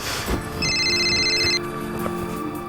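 A telephone rings indoors with a bright electronic ring tone that sounds for about a second amid faint background noise, with no one speaking.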